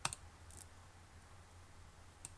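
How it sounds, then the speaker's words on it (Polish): Quiet mouse clicks while working in ZModeler 1.07b software: a sharp double click at the start, another near the middle and one at the end, with a low steady hum from the computer in between. "Teraz klikamy na ostatni kwadrat."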